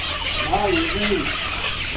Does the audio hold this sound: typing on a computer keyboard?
no